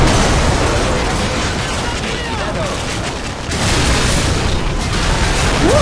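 A tank blowing up in the Call of Duty 4 video game sets off a loud, dense roar of explosion and burst noise that fills the whole stretch, surging again toward the end.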